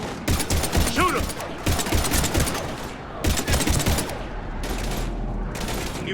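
Bursts of heavy automatic gunfire from the video game Gears of War come in several loud, dense volleys separated by short pauses, with shouted voices amid the shooting.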